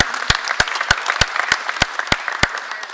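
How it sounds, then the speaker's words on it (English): Applause for the coach at a basketball media day, a dense patter of clapping punctuated by regular sharp, evenly spaced claps standing out close by. "I think another round of applause for Coach."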